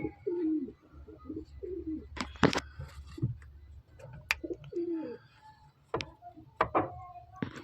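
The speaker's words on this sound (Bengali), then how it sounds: "দুটো পায়রাই দেখুন খুব সুন্দর পায়রা" Pigeons cooing close by, a pair of birds kept for sale, repeated soft throaty rolling coos in short phrases, with a few sharp knocks and rustles between them.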